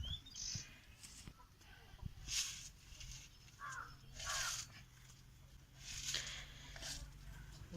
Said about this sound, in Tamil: ஒரு காக்கா வந்துட்டு.